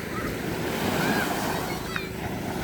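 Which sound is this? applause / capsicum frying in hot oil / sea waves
sea waves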